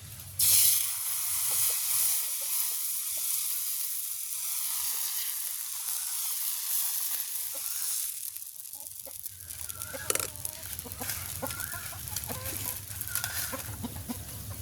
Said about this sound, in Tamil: இப்போ தூசக்கல்லுக்கு எண்ணெய் ஊச போகிறோம் நல்லெண்ணெய் அளவு ஊற்ற போகிறோம்